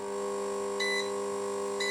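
A DIY bench power supply sounds its overcurrent alarm, giving two short electronic beeps about a second apart over a constant mains hum.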